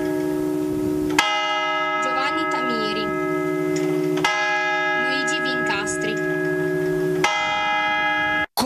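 A church bell at Strela tolls three slow, loud strikes, each leaving a long ringing hum that fades before the next blow.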